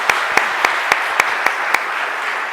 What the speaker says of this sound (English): Can we get one more round of applause for these terrific speakers?